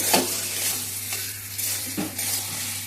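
Potatoes and broad bean seeds fry in a pan with a constant sizzle, while a few separate bursts of scraping from the stirring rise above it. A low steady hum sits underneath, and nobody speaks.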